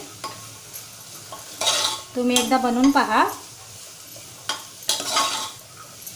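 A spoon stirs spices into sprouted chickpea usal in a pan, producing scraping clinks and a soft sizzle, with a brief spoken remark and a short tonal voice-like sweep in the middle.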